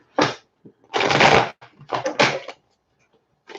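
A deck of tarot cards is shuffled in several quick riffled bursts separated by short pauses, close and crisp with no talk.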